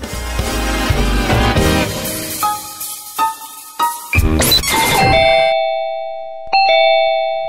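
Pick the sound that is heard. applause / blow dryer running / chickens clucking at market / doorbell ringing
doorbell ringing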